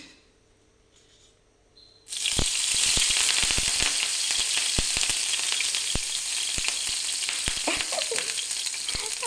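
Green chillies dropped into hot oil with long-cut onions for an egg bhurji with dill leaves: quiet at first, then a sudden loud burst of sizzling and crackling that continues with sharp pops and spitting, no talk.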